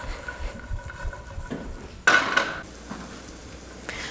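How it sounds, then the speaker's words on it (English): Sliced red onion sizzling in olive oil in a pan over low heat, with a quiet steady crackle, a brief louder burst of frying midway, and occasional faint clinks of cookware. "We're getting a nice little sizzle going on in there"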